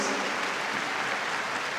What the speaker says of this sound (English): Please welcome the players and umpires again with a big applause.